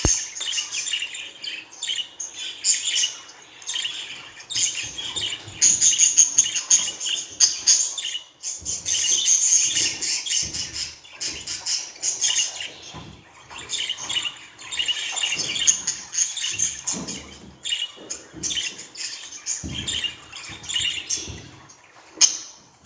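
A budgerigar chirps and warbles continuously in close, bright bursts of rapid tweets and squawky trills, with short pauses between phrases and no talking.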